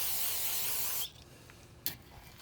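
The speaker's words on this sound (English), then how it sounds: "let me clean this off with the brake cleaner" Brake cleaner sprays onto the old grease of a 1958-1964 Chevy Posi differential: a loud, close, continuous hiss for about a second, then a quiet pause and one short, faint spurt.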